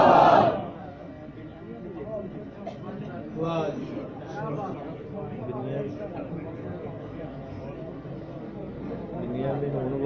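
A large religious gathering of a Pakistani Ahl-e-Hadith association answers a leader's call with loud, rolling group chanting, many voices together at a distance, starting with a sharp shout and continuing as a steady roar.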